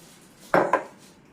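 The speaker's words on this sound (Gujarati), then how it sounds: "અહીં મરચાં અને લસણમાં થોડુંક આદું નાખી અને કૂટી લઈએ" Chillies, garlic and ginger pounded in a mortar, two sharp knocking thuds in quick succession, close and fairly loud against a quiet background.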